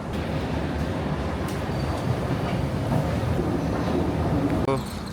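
A Paris metro train rumbles steadily and loud throughout, with a dense low roar, faint clatter of the wheels and a brief squeal near the end.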